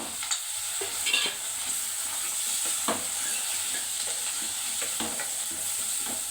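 Onions sizzle in a hot pan for tomato pappu, a steady crackling fry broken by a few scraping stirs, close and moderately loud.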